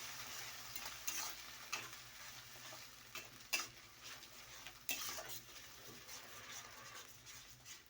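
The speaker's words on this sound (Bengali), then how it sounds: "এটাকে ভালো করে তেলের উপরে নেড়ে একটু কষে নিতে হবে" Spices stirred and fried in hot oil in a pan for a chicken masala, with a steady soft sizzle under repeated scraping and clinking of a spoon against the pan, no talking.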